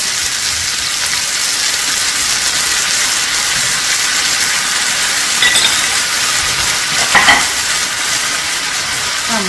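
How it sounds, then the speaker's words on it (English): King oyster mushrooms stir-fry with soy sauce in a hot pan, giving a loud, continuous sizzle and hiss, with a few brief scraping stirs near the end. "Then we add all the mushrooms here."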